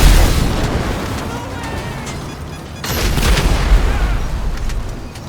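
Heavy gunfire and explosions pound an armored car in GTA Online, a dense, loud barrage of booms and bursts that surges again midway through.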